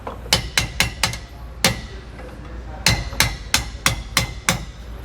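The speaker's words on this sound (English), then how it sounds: "we'll take our hole punch again and our hammer and just work that right out" A hammer drives a hole punch against a worn bushing to knock it out of a tandem-axle trailer suspension on a 2018 Shasta trailer. Sharp metallic strikes come close and loud: a quick burst of about five, a pause, then another run of six.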